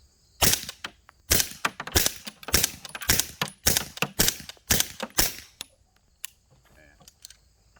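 A quiet gun test-fired near a steel target, giving about a dozen sharp, snappy cracks in a quick irregular series, fairly close, followed by a short stretch of near silence.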